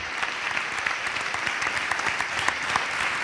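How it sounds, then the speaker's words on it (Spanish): Steady audience applause from a crowd at an interview event, a dense, continuous wash of many hands clapping for over three seconds with no voices on top. "Que siga el aplauso"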